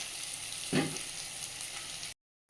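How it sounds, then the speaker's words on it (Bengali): Potatoes, capsicum and onion fry together in a pan, a steady close sizzle with one brief stirring bump early on, then the sound cuts to silence near the end. "আলু ক্যাপসিকাম পেঁয়াজ ভাজা চলছে"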